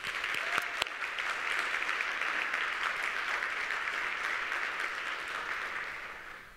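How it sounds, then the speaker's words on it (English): A crowd at a community college employee awards ceremony claps steadily, a dense even wash of applause that holds and then tapers off near the end. "Would you just give yourselves a huge round of applause tonight?"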